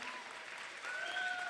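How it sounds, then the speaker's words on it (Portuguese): Audience applause at the opening ceremony of the 2023 Primavera dos Museus event, a short, steady burst of many hands clapping at moderate distance, slightly swelling toward the end. "Uma salva de palmas para vocês"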